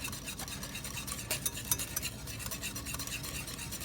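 Mustards and anchovies being mixed by hand in a bowl, a quiet continuous wet stirring and rubbing with faint utensil scrapes, close and low in level.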